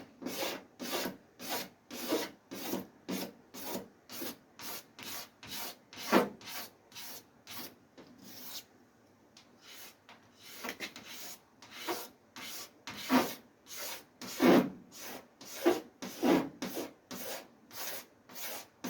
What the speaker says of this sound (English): I'm simply doing is just shaving the run off